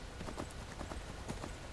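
A horse's hooves clip-clop at a steady walking rhythm on stony ground in the video game Skyrim, quiet and continuous.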